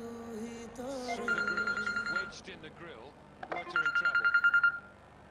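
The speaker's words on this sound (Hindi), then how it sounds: "भाईजान का फोन" An incoming-call ringtone on a telephone chirps in two bursts of rapid repeated electronic tones, the first after a stretch of soft music, the second louder and closer; music plays underneath with no speech.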